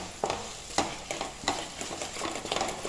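Tomatoes and onions cooking together in a pan for a Kerala-style vegetable biriyani, with a soft steady sizzle broken by repeated scraping stirs of a spoon every half second or so, close and fairly quiet.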